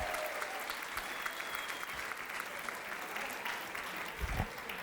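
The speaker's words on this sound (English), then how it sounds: "Let's have some whooping, some cheering." A club-night comedy audience applauds steadily in a large room, a dense wash of clapping with scattered whoops and cheers rising near the end.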